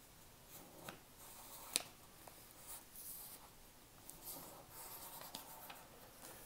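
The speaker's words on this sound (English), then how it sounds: "So we'll bring in the right-hand corner and fold down." Paper being folded by hand for an origami phone stand: soft, close rustling and creasing with light scraping and one sharp crisp crinkle, faint throughout.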